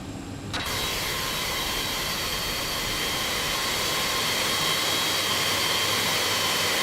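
Boeing 767F jet engine blast in a flight simulator, a loud steady broadband roar with a faint whine that switches on abruptly and holds without a break.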